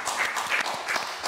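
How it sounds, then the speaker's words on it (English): A small group of people clap in a casual indoor hangout, giving faint, scattered applause with a few uneven claps over quiet background. "I like how y'all be clapping"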